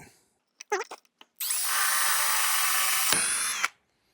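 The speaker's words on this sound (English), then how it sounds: "I need to drill a couple of holes through the valve body." After a few brief taps, a high-pitched power drill whines steadily at close range for about two seconds, drilling through a 46RE transmission valve body, then stops abruptly.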